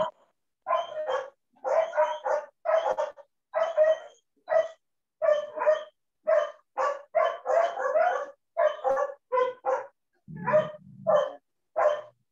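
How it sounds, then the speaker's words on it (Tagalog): A dog barks repeatedly in quick, uneven bursts, fairly close, with a couple of lower growly yips near the end. "kanino yung kumakahol na?"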